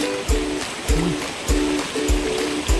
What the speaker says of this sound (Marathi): पूर्ण रस्त्याला पाणी आलेलं आहे